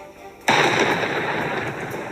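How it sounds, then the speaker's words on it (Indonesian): A sudden loud blast cuts through near-quiet, then a booming, rumbling roll of explosions lingers and slowly fades, a sound effect in a horror story. "Tiba-tiba terdengar beberapa ledakan dari tempat Kamali dan Kimandala berada."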